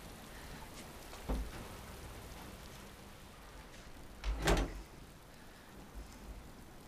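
Soft steady rain hiss with a couple of brief louder patters or knocks, fairly quiet and with no voices.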